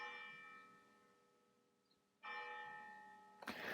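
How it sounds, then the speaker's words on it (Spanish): Church bells ring in the medieval video game Kingdom Come: Deliverance, sustained resonant tones that fade and are then struck again louder, ringing out clearly without any talk. "La verdad es que es bastante medieval esto de las campanas"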